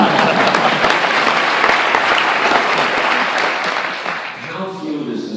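An audience applauds during an interview at the TIFF premiere of the film "Visitors". Dense, loud clapping carries for several seconds, then tapers off as a voice begins to speak.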